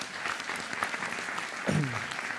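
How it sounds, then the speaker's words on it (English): Festival opening audience applauds campaigners, a soft steady patter of clapping from a crowd in a hall, with a brief voice or tone rising near the end. "round of applause for them"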